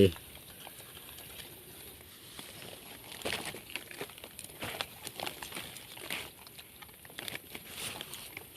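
Rain falls outdoors in a Thai forest during mushroom foraging, producing a steady crackling patter on leaves with scattered sharper drops, while someone speaks over it.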